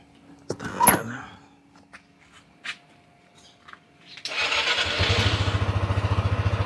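A few quiet knocks and clicks come first, then a used motorcycle's engine cranks and fires, settling into a loud, steady, pulsing idle close by.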